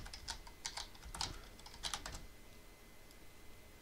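Faint, quick keystrokes on a computer keyboard in a short burst that trails off into quiet room noise, with no speech.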